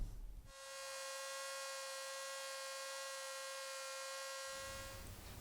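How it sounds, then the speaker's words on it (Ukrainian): A small drill whines at a steady high pitch for about four seconds while drilling a part for an ice-fishing lure, starting and stopping abruptly, with no voices. "Свердлимо і підправимо."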